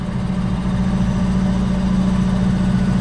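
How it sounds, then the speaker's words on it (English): A CSX locomotive engine rumbles steadily while the train reverses, a loud, close, low diesel drone with a constant hum and no break across the few seconds. "CSX engine"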